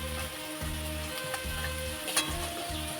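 Leaf fritters (bora) fry in hot oil with a soft, steady sizzle, joined now and then by quiet scraping stirs in the pan.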